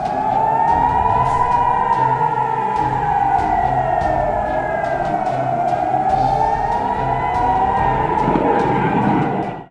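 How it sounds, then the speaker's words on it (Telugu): Indian Army alert sirens sound across border villages, a loud continuous wailing tone that rises and falls slowly for nearly ten seconds before cutting off. "ఈ క్రమంలో సరిహద్దు గ్రామాల ప్రజలను సైరన్లతో భారత సైన్యం అప్రమత్తం చేసింది."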